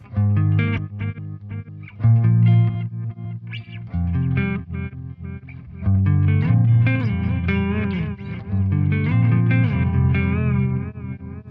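Electric guitar played through a Joyo Aquarius budget delay pedal in reverse delay mode, notes swelling and smearing backward with heavy repeats and a distorted, chorused wash; loud, continuous phrases with brief gaps, no talking.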